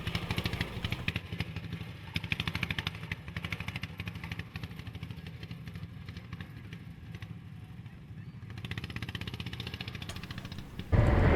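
A small kids'-class pulling tractor at the Ilderton, Ontario tractor pull idles and putters along on a victory lap, a modest engine drone with light clatter at moderate distance before a louder burst at the end.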